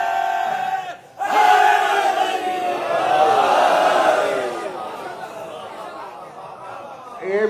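A crowd at a Ramzan religious gathering bursts into a loud collective chant of a religious slogan, voices rising together and then fading into murmuring, with a fresh swell right at the end.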